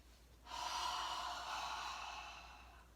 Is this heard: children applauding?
no